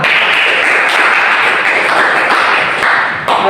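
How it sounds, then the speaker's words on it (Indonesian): Classroom of students clapping together at the end of a lesson, a dense, steady wash of close handclaps filling the whole moment with no talk over it. "Tepuk tangan untuk kita semua."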